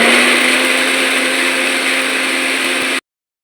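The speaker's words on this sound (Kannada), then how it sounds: "ಸ್ವಲ್ಪ ಹಾಕುವಾಗ ನೀರು ಹಾಕಿ ಗ್ರೈಂಡ್ ಮಾಡ್ತಿದ್ದೇನೆ." Mixer grinder blending ginger, garlic, cashews and herbs with water for egg biryani masala, a loud steady whirring motor running nonstop for about three seconds before it cuts off abruptly.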